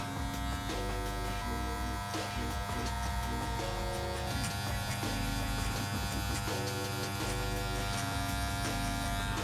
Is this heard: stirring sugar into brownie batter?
no